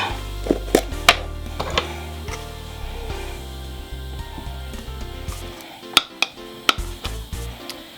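Homemade cat food ingredients mixed in a bowl, with clinking of utensils against the bowl, soft stirring and scraping, and a few sharper knocks, all fairly close with no talking.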